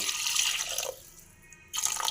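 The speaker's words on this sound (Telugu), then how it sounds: "ఇప్పుడు కొద్దిగా నీళ్ళు పోసుకున్నాము" Water pours into a pot of mutton curry in the kitchen, a steady close splash and trickle that drops off midway for a quieter moment before the stream resumes.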